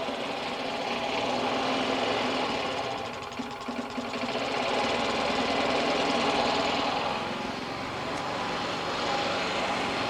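A GEET engine runs steadily with its muffler exhaust valve shut off, giving a continuous droning, buzzing mechanical roar that dips briefly partway through and then holds on alone.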